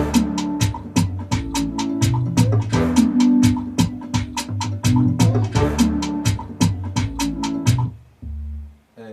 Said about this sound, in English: this bass I use a VST called sub boom bass.